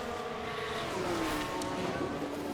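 F1 cars racing in F1 Manager 2024, a steady high-pitched engine whine with overlapping tones as cars run close together during an overtake, continuous and moderately loud without any talk.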